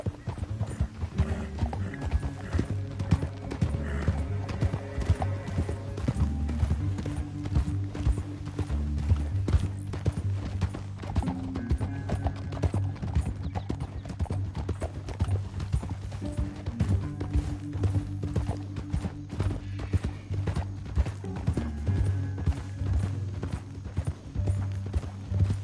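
Horse hooves clip-clop in a steady rhythmic gait during riding in Red Dead Redemption 2, close and continuous, with an occasional whinny and low music or ambience underneath.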